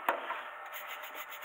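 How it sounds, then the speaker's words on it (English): A tractor hydraulic mesh filter soaked in petrol being scrubbed by hand, a sharp knock then a continuous close, gritty rubbing with faint rhythmic strokes. "Just soaking it in this, scrubbing it, soaking it, scrubbing it, soaking it, until I get it clean."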